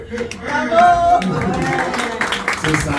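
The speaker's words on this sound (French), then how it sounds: "C'est ça, applaudissez-vous" Audience at an 11th anniversary celebration claps, a close, lively burst of hand claps mixed with crowd voices and a person speaking through it.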